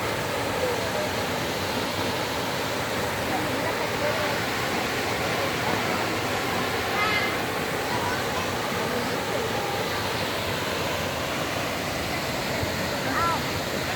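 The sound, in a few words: waterfall at Campo Alegre, Santa Catarina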